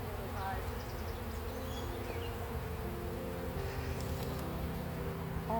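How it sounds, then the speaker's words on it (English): Honeybees buzz steadily around an open hive during a hive split, a dense continuous drone filling the scene at close range with faint background noise. "Lots and lots of bees in this hive."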